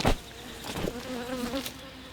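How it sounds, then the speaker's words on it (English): A honey bee buzzes close around a beekeeper's face at an opened hive, its wavering drone rising and falling as it circles near, after a brief loud knock at the start. "there's a bee flying around my face, little bugger"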